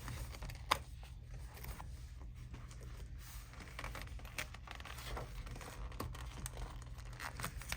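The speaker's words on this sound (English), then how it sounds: "reach in here and pull off that tape on the D-ring strap connectors" Adhesive tape being peeled from the D-ring strap connectors of a clear vinyl stadium bag, heard as soft, close crinkling and tearing rustles over a steady low hum, with a brief sharper snap near the start.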